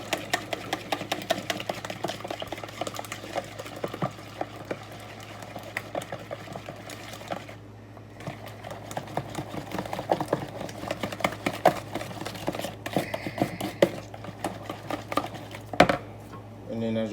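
Milk being whisked in a bowl for Cinnamon Toast Crunch French toast, a rapid rattling clatter of utensil against the dish repeating steadily, with short pauses, over a low background hum.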